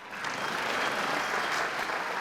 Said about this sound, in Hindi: वाह, तालियां